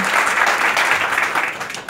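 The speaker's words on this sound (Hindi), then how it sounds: "और एक बार हमारी टीम के लिए ज़ोरदार तालियां एक बार" Applause from an audience at a Hindi film muhurat ceremony, honoring the film team. It is a dense, steady roar of many hands clapping together, loud and sustained across the moment, tapering slightly near the end.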